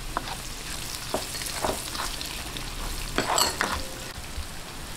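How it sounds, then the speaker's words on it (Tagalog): Garlic and ginger sautéing in oil left over from frying milkfish, a steady close sizzle with spoon scrapes and light stirring knocks against the pan throughout. "heto po yung aking pinagprituhan ng bangus at dito ko na rin po ako maggigisa"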